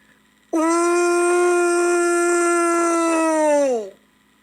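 A human voice imitates a dog's long howl, one sustained, loud, steady wail of about three seconds that bends downward at the end.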